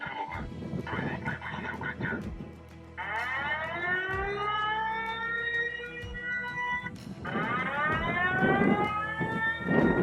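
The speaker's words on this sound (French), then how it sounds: "4 sirènes électromécaniques" An electromechanical civil defense siren in Slavutych wails in long rising and falling sweeps, loud and sustained, repeating its winding cycle over a low background rumble.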